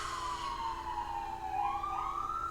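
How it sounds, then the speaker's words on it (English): An emergency vehicle siren wails past, its pitch sweeping down and then rising again, heard faint and steady in the background with no talk over it. "Okay, sirens."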